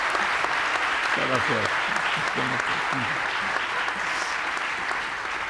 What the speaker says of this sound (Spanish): Vamos a pedir un aplauso para Silvia, Javier y Laura